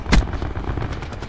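Gunfire from the video game Black Ops 4 cracks as one sharp, loud burst near the start, followed by a dull, rumbling tail of fainter shots with no voices.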